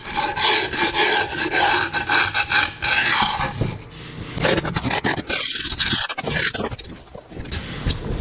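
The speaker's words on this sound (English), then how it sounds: "grab your 5mm Allen key and just scrape the end" A 5mm Allen key scraped along the end of a scooter deck in steady, close, rasping strokes, repeated back and forth with a brief pause midway.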